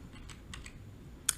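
Several soft keystrokes on a computer keyboard while editing a drawing window, faint taps spread across the moment with one sharper click near the end, no voices.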